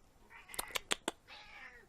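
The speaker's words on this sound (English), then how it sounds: "And my cat's down here whining for attention." A house cat whining for attention indoors, a few short, soft, fairly faint meows and whiny calls in quick succession in a quiet room.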